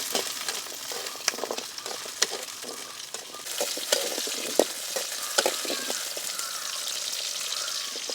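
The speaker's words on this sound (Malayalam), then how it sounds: "ഇനി ചൂടുള്ള എണ്ണയിൽ തന്നെ ഈ ചെറിയ ഉള്ളി ഇട്ട് കൊടുക്കാം." Small shallots, about ten to twenty-five, tossed into hot oil for a coconut-free chutney, sizzling and crackling steadily with sharp pops and occasional stirring clinks, close and alone.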